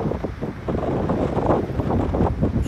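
Strong south wind buffeting the microphone outdoors near a lake with sugarcane burning nearby, a loud, continuous, gusty roar with no voices.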